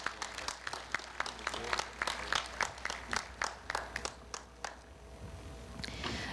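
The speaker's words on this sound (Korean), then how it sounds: "30년 장기 근속하신 두 분께 다시 한번 축하의 박수 부탁드립니다." Audience applause for two 30-year long-service awardees at Korea University's 111th anniversary ceremony, a sustained patter of many hands clapping in a hall that fades out over the final seconds.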